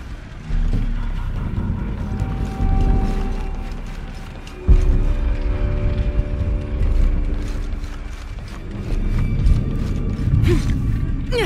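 A ship's boom swings round in Shadow of the Tomb Raider, with loud creaking wooden and mechanical groans, ratcheting clicks and a heavy thud midway as the rotation continues.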